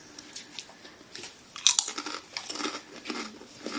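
A crunchy wasabi rice snack, like small chips, is chewed close to the mic, giving a quick run of crisp, irregular crunches that grow louder partway through the bites.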